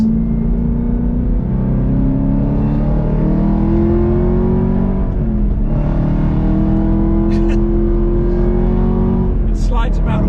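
A Chevrolet Camaro ZL1 1LE engine drones loudly and continuously at close range on a race track, its pitch rising and falling as the car accelerates and shifts, with brief higher whirs near the end.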